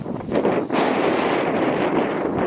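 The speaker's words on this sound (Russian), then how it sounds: "Ветер еще." Wind blows outdoors on a cattle pasture, a steady broadband rush buffeting the microphone close up with gusty swells throughout, and no voices.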